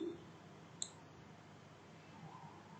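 A single crisp computer mouse click during a software demonstration, quick and close, in an otherwise quiet room with faint background hum.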